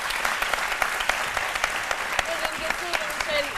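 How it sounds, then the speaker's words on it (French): Audience applause at a televised Ivorian midday show, a dense steady patter of clapping throughout with some voices mixed in. "je voudrais qu'on applaudisse ces modèles de réussite à l'ivoirienne"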